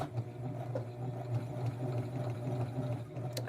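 Electric sewing machine stitching a small retro blouse for a Western Barbie doll, a steady mid-pitched motor whir running continuously and fairly close, with no talking.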